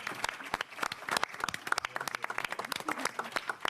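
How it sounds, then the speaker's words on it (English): Audience at a mayoral press conference applauds a woman named Kizzy, a steady patter of many hands clapping at moderate loudness for several seconds, with a little talk underneath. "Let's give Kizzy a round of applause."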